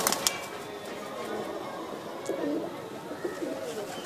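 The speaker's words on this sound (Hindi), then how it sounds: "ये देखना, ये कबूतर है।" Pigeons coo softly and repeatedly, low murmuring calls rising and falling close by in a quiet indoor space, with a few brief clicks early on and no speech.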